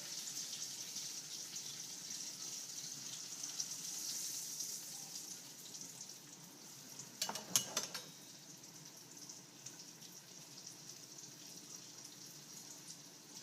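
Venison steak fries in a skillet with a steady, quiet sizzle that runs throughout, broken briefly by a soft clatter near the middle.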